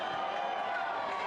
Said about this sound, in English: the crowd certainly react to that one